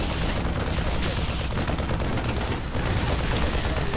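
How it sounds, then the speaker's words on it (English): A Marine fires at a gas assimilator in the StarCraft 2 video game, with dense, rapid gunfire that rattles continuously and loudly, blended with other battle noise. "a little bit of a Marine attacking a gas assimilator"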